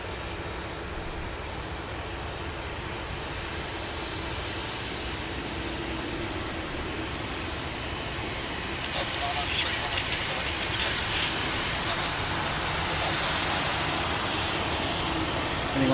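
An Australia Post freight plane passes over Sydney Airport, its engine roar a broad, steady rumble that swells slightly toward the end, with a voice talking faintly underneath.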